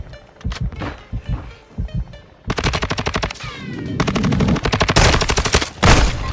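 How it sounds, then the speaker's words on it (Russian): Gunfire in the Warzone 2 DMZ video game: a few scattered shots at first, then sustained rapid automatic bursts that keep rattling loud and close for several seconds. "вы под обстрелом"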